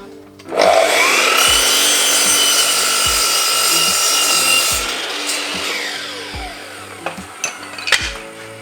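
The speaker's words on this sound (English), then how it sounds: "now I'm just going to cut the front and the back pieces, which is going to be the 300mm wide." A power saw cuts 300mm-wide wooden boards for a chicken nesting box, starting with a loud, steady whine that runs for several seconds, then winds down into a few scattered knocks.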